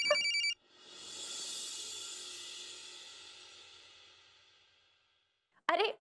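A telephone rings in a single long tone that swells and slowly fades out, bracketed by short bursts of sound at the start and end.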